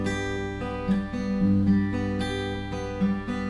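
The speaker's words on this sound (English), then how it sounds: "So my first example of that strum using finger picking might sound like this" A guitar plays a strumming pattern as fingerpicking, with soft, close plucked notes and chord tones picked out in a gentle rolling rhythm, quieter than a strum and with no voice over it.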